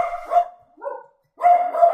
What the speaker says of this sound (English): Alright, dog. Shut up, Oliver.